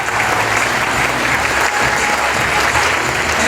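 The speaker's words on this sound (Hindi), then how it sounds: "एक जोरदार तालियां सबके लिए।" Loud, dense applause from a training-session audience at Chaibasa, steady and continuous throughout with no speech over it.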